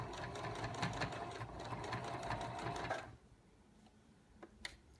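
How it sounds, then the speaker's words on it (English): Sewing machine stitching fabric held with pins, a rapid rhythmic mechanical chatter running steadily for about three seconds, then stopping to leave faint clicks and quiet handling noises. "So you're sewing with the foot along the edge of the cuddle."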